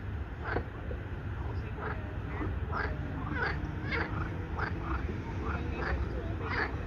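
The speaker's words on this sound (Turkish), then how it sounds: "Bakın kurbağa sesi." Frogs croak again and again in a loose, uneven rhythm over a low outdoor rumble beside a lake in the Netherlands, with faint voices of restaurant diners in the background.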